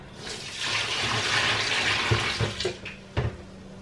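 Water pours into a portable washer with a continuous splashing rush that fades out after about two seconds, followed by a few short sloshes and knocks.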